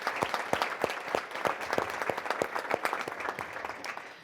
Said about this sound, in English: let's give the West Michigan Literacy Center a huge round of applause